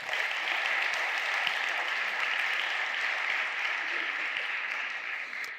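A church congregation applauding during a service, steady sustained clapping from a large crowd lasting several seconds and filling the room evenly.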